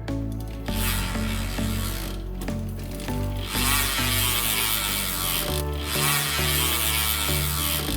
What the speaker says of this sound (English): I'm gonna let you hear the King ISO hub real quick.